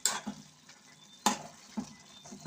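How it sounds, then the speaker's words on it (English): Jamaican festival dumplings fry in a pot with a soft, steady sizzle, broken by a few sharp stirring and scraping knocks, heard close up with no talking. "I'm gonna fry my festival now."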